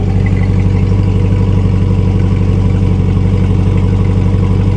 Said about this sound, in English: Listen to the exhaust. It sounds pretty damn good.